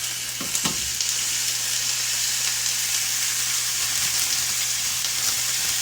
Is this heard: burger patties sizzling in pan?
yes